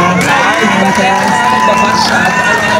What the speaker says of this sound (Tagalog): Bakit hindi natin sabay-sabay palakpakan, hiyawan at tilian ang napakagandang si Mrs. Marian Rivera.